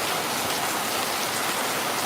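Rain falls in a dense, even hiss, continuous and fairly loud with no other sounds.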